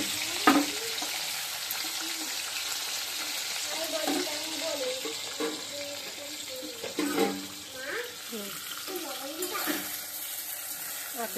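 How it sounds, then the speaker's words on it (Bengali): Onions and meat fry in a pan with a continuous hissing sizzle, close and steady, while a voice talks over it and occasional stirring clatters cut through. "এখন আমি পেঁয়াজটা একটু হালকা করে ভেজে নেব। ভেজে আমি মাংসটা দিয়ে দেব"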